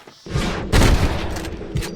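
A close, loud burst of sniper rifle fire in the video game Red Dead Redemption, with heavy booming reports and their echo rolling on, and no talk.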